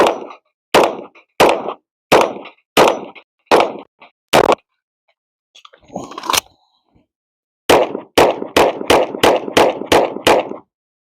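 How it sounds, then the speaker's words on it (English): An HK P30L LEM pistol, Langdon Tactical model, fires about six loud evenly spaced shots, then a short quiet handling noise, then a quick string of roughly eight rapid shots close by. "So we'll just kind of shoot it a little bit."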